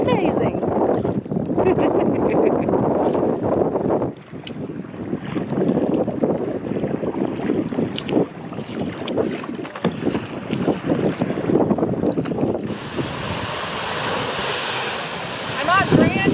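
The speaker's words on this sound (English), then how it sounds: "This is Julian paddling in the waves" Waves wash and slap around a paddling craft on Lake Superior near Grand Island by Munising, Michigan, a loud, continuous churn of water mixed with heavy wind rumble against the microphone.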